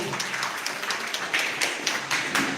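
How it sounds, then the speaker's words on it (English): Audience clapping for school students at an English-medium school event in Lanja, a steady patter of many hands at moderate distance, continuous throughout without voices. "Let's give them a huge round of applause,"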